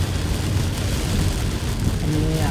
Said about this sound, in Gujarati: બપોરના 1:30 વાગ્યામાં જ આ ફૂલ વરસાદ ચાલુ થઈ ગયો છે